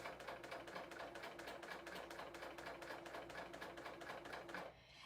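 Serger stitching pintucks along folded knit fabric with stabilizer, a steady fast rhythmic chatter running close and alone before stopping abruptly near the end.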